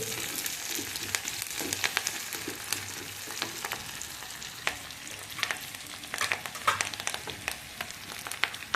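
Onions and curry leaves sautéing in a pan for Salem-style kara kuzhambu, a soft continuous sizzle with scattered light crackles and spoon taps from stirring, close by.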